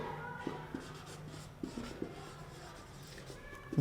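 Pen strokes scratch across paper as an assumption for a quadratic equation maths problem is written down, with several short, quiet, separate strokes in a row and a louder bump at the end.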